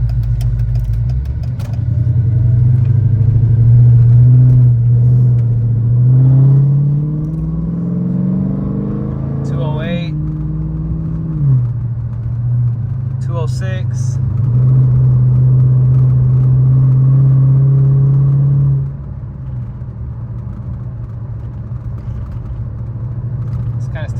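Dodge Charger Hemi V8 driven in summer heat, a loud steady engine drone that rises and falls as it accelerates and cruises, heard from inside the car, then drops quieter near the end; someone talks over it.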